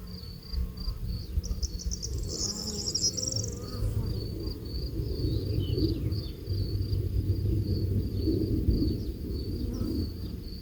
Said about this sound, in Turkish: Bu yağmacı değil, keşifçi arılar görüyorsunuz.